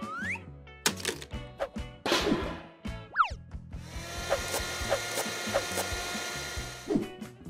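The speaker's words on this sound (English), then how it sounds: "Pinkie Pie uses a hammer to repair the chair" Cartoonish hammer knocks on wood as a paper chair is repaired in stop-motion, a handful of sharp taps mixed with springy boing effects and bright background music.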